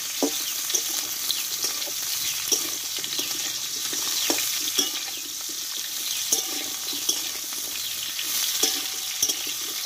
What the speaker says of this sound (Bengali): একটু ডাঁটাটা ভালোভাবে কষিয়ে নেব।